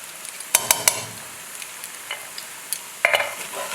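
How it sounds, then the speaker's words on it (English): A spoon stirs a seasoned rice mixture with salt and black pepper in a pot, giving a few sharp scraping clinks and then softer scrapes over a faint sizzle. "and I'll stir"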